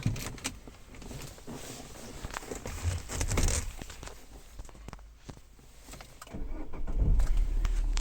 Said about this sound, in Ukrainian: розблокував руль та завів